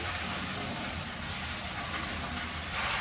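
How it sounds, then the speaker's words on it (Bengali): Malabar spinach dropped into onions frying in a pan, giving a loud, steady broadband sizzle and hiss of steam that carries without a break from start to finish, with no voices. "এই তোমার আমার পেঁয়াজটা ভাজা হয়ে গেছে এখন যে পুঁই শাকটা দিয়ে দিলাম"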